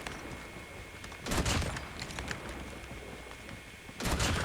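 Two heavy gunshot bursts in a mobile shooter game, one early and one near the end, each a loud broadband crack over steady background game noise, with no talking.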